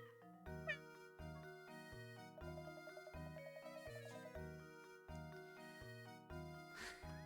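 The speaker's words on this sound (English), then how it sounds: "What's this cat doing here?" A cat meows a couple of times in Professor Layton and the Curious Village, the short rising cries riding over loud, steady game music.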